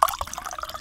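A drink splashes briefly into a glass during a quick re-pour, with a short liquid trickle and a few drips, close and alone.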